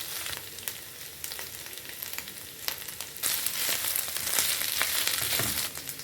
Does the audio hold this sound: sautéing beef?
yes